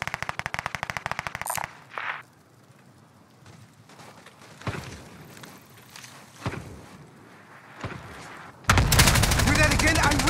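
Rapid automatic gunfire bursts from the Warzone battle royale video game, loud at the start and end with scattered footsteps and shots between, while players talk.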